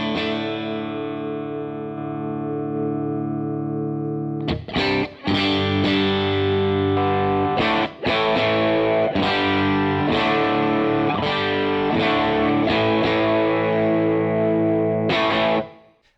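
An electric guitar played through the drive circuit of a Divided By 13 RSA23 boutique amp rings out in a held chord, then a run of crunchy, overdriven strummed chords and riffs with short pauses, loud and alone without speech.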